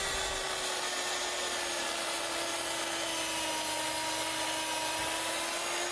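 A saw cuts scrap away from a wood board in one steady, continuous whine that stays fairly quiet throughout, holding an even pitch with no talk.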